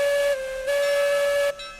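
A steam locomotive whistle in the RailRoads Online video game, sounding as a steady high tone in three blasts broken by brief dips, with a faint hiss underneath and no talking.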